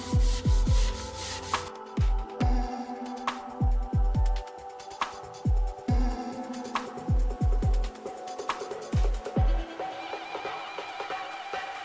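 Rough, scratchy sanding strokes on a rough primer surface of a BMW E36 race car rasp back and forth in quick repeated passes, close and fairly loud, with dull knocks between strokes.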